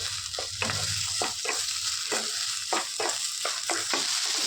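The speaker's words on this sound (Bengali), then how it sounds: "এখন ভালো করে কিছুক্ষণ ধরে নাড়াচাড়া করে নেব পুরো শুকনো শুকনো করে নেবো" Lote fish frying dry in a pan, with steady sizzling under a run of spatula scrapes and stirring strokes at an uneven rhythm, close and fairly loud throughout.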